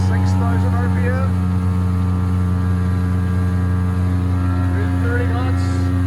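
A Mercury 115HP OptiMax outboard drives a Trophy 1802 WA boat at full speed, 6000 RPM, producing a loud, steady, unbroken engine drone with wind and water rush. A voice is faintly audible beneath it.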